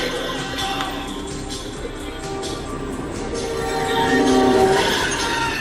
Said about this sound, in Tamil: ஓகே ட்ரெயினை இடிச்சிடும்